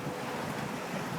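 Ocean waves and strong wind buffet a sailboat nearing Cabo São Tomé, a steady loud broadband roar of surf and wind noise filling the short stretch without a break.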